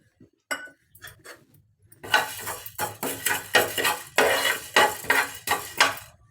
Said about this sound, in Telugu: ధనియాలు వేగుతున్నాయి కదా.